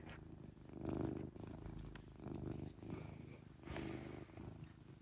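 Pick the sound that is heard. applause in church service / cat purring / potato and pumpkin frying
cat purring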